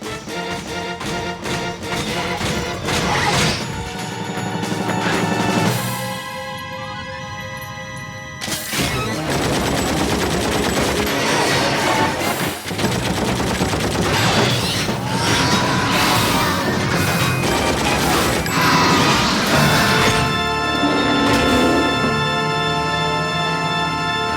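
Heavy crashing battle effects and gunfire strike a mechanical spider boss in Final Fantasy VIII, loud and dense over a continuous music score with a few sharp impacts.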